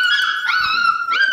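A puppy whines nearby in a loud, high, wavering cry, drawn out and rising in pitch twice over a second or so, with no talk.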